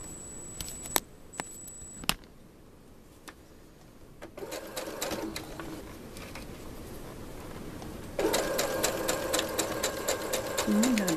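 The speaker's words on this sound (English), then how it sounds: "I'm going to back stitch over the top a little bit." A sewing machine back stitches a seam on a gown, starting with a few clicks and short runs, then a steady whirring stitch that grows louder and busier toward the end, close up and without talk.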